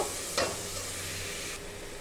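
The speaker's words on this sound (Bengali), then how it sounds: "দিয়ে দেবো 1 চামচ গরম মশলা। আর কোনো মশলা এতে যাবে না। দিয়ে একটু কষে নেব।" A spatula stirs chicken with a spoonful of garam masala and salt in a hot pan for yakhni pulao, giving a soft continuous sizzle with one brief scrape near the start, quiet and close.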